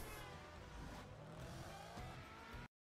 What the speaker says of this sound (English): Now they're all doing a drag race.